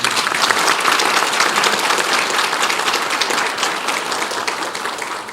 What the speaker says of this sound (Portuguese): Vocês acabaram de aplaudir